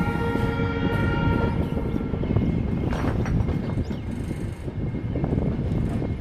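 A train running near Lumding in Assam on the Guwahati line rumbles steadily and loud, with sustained tonal horn notes layered over the heavy rolling noise of the wagons and faint wind.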